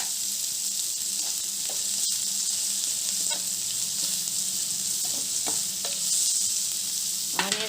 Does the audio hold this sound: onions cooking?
yes